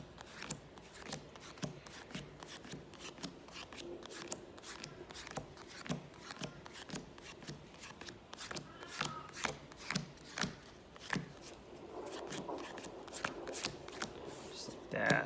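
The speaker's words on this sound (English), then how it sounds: "So we'll do a quick pile shuffle." Magic: The Gathering cards being pile-shuffled from a 40-card deck, a run of quick, crisp slaps and flicks as cards land on piles in steady rhythm, close up, with a voice talking over parts.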